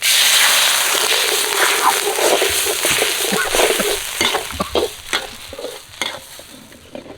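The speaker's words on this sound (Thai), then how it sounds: "ตอนนี้เครื่องผัดหอมดีแล้วนะครับ ก็จะใส่น้ำเปล่านะครับ" Water poured into a hot wok of sizzling Thai stir-fry paste for spicy fried catfish, a loud burst of hiss and crackle that settles into bubbling with scattered spatters and stirring scrapes.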